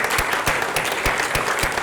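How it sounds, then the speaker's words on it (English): An audience at a Jio True 5G launch event claps loudly for a speaker, with dense, steady applause and sharp individual claps standing out close by for the whole moment. "So I think a big round of applause to youth."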